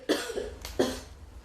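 Someone with a cold for several days coughs twice in quick succession, close and loud, each a harsh burst that trails off, with no talk.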